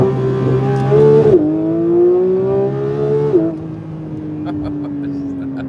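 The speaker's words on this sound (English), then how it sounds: "I want to hear a little more of that flat 6 engine." A 2022 Porsche 911 GT3 with PDK gearbox revs its flat-six engine loudly and close by, its pitch climbing in two rising pulls before dropping back to a steady drone.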